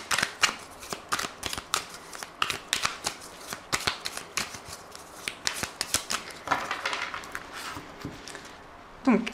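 An oracle card deck is shuffled and cut by hand, a steady stream of crisp, close card slaps and riffles in an uneven rhythm, ending with a soft thump, with no talking.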